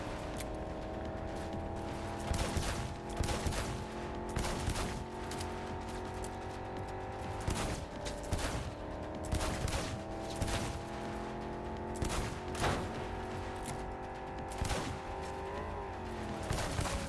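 Gunfire in the video game Cyberpunk: repeated sharp shots in bursts and single cracks over a constant, droning car engine during a chase, spread evenly through the scene.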